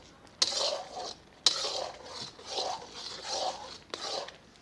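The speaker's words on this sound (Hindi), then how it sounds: "चम्मच को हिलाते रहना है।" A spoon stirs thick milk halwa in a pan, scraping in repeated rhythmic strokes with a couple of sharp clinks against the metal, close and fairly quiet.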